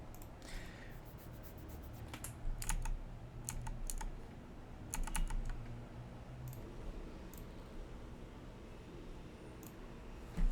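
Someone types on a computer keyboard and presses Enter while adding an SSH private key, heard as quiet clusters of close key clicks separated by pauses, with a light steady background hum.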